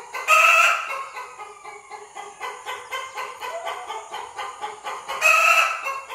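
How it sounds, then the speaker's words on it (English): Chickens on a Ghanaian poultry farm cluck close by in a steady, rhythmic run of short calls. Louder, brighter bursts come near the start and end, with no talking. "It's okay, chicken. Be quiet and lay your egg."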